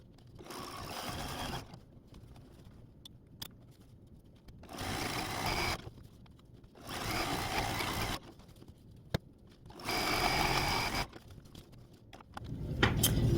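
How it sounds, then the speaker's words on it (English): Sewing machine stitches rick rack trim onto quilt binding a quarter inch from the edge, running in four steady bursts separated by quiet pauses, close and clear with occasional small clicks. "I'm just going to sew basically 1/4 inch from the edge of the quilt all along this edge."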